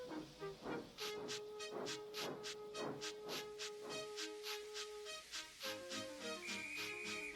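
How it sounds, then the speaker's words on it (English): A steam locomotive hisses and chuffs in bursts while a steady whistle-like tone sounds, with scattered higher whistles near the end; fairly quiet and distant. "Gordon, with much noise and blowing of steam, got ready to back onto the train."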